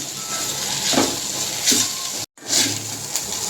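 Noodles are tossed and stirred in a frying pan, giving steady close sizzling with soft scraping strokes and a brief dropout partway through.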